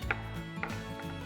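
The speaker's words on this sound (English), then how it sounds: "chop them up into small chunks" A knife chopping tomatoes into small chunks on a board, three light, quick taps close by over quiet room tone.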